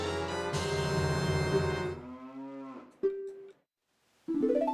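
A cow moos in a retro video game, a clear synthesized bovine call that swells and fades over about two seconds, followed by short electronic game tones and a brief pause.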